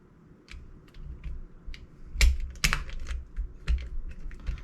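Parts of an airsoft hi-cap magazine for M4, AK or G36 rifles being fitted together during cleaning, a close series of sharp plastic clicks and snaps at irregular intervals over quiet handling noise.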